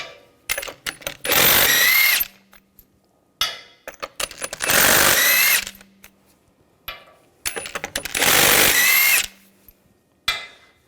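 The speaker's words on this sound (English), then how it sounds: "Now we're going to remove the wheel, use a 19mm socket. Take the lug bolts out." An impact tool spins lug bolts off the rear wheel of a 2000-2006 BMW X5 using a 19mm socket: three loud, close whirring bursts of a couple of seconds each, separated by short pauses and small metallic clicks.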